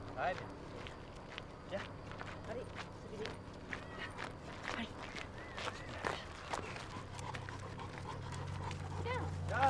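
Cane corso dogs walking outdoors, panting rhythmically close by, with footsteps throughout and a low background hum growing toward the end.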